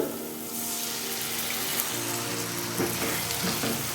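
Potatoes sizzle with spices and a splash of hot water in a pan, a constant close frying crackle with soft bubbling and no voices.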